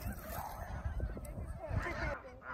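Geese honk in a quiet series of calls from a short distance, heard outdoors at a trout-fishing spot over a low background rumble, with no talking.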